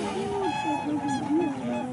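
Waterfowl calling on a warm-spring swan lake in Altai that stays unfrozen in winter, a few honking, drawn-out calls close by against a steady outdoor hum.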